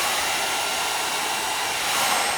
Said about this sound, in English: And then I'm going to start blow drying my hair going downward and really sealing in that cuticle.